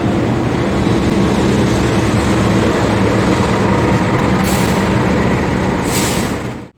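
A train bound for Surabaya passes close by on a coastal line, a loud continuous rumble and roar of wheels and carriages filling the whole stretch before cutting off abruptly at the end.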